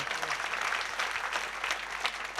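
A crowd at a night-time Varkari kirtan in Antarwali Sarati claps loudly and continuously, a dense, even wash of applause filling the whole moment.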